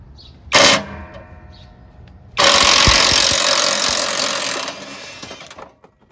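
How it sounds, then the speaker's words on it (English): A 1/2 inch impact wrench loosens a 14 mm bolt on a Craftsman LT2000 lawn tractor, a short loud burst of hammering followed by a sustained rattling run of about three seconds, then silence. "Nothing beats a 1/2 inch impact."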